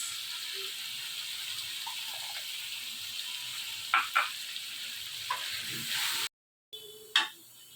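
Tamarind juice poured into a sizzling masala gravy for sour-spicy achari eggplant, a steady frying hiss with a few sharp spattering bursts and a brief dropout, no voices.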